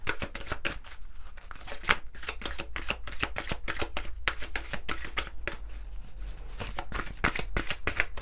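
Oracle cards are shuffled close up in rapid repeated riffles and slaps, a crisp rhythmic flutter of card edges continuing without speech.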